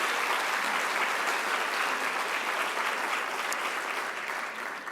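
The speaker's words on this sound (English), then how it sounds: "Please give Sally another round of applause." An audience at an interior design association annual meeting claps in a sustained, even round of applause that fills the room and fades slightly at the end, with no speech over it.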